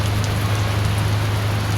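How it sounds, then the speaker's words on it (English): Steady rain falls continuously on a rainy day, a dense even hiss over a low constant hum, with no voices. "But you can see it's raining."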